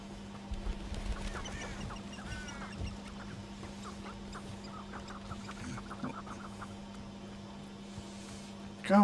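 A chicken in a video game clucks and squawks in a run of uneven calls over a steady background hum, moderately close, with no voices.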